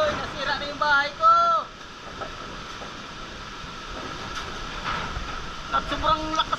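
Strong typhoon wind roaring steadily around a house in the Philippines as the roof's corrugated iron sheets are torn loose, a continuous broad rush with brief rattling bursts and a voice speaking over parts of it.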